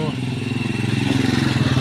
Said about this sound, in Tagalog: Ayun yung mga motor.